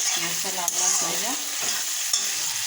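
Fish and onions fry in a pan with a steady, close hiss and crackle, broken by a few sharp clinks or scrapes, and no voices.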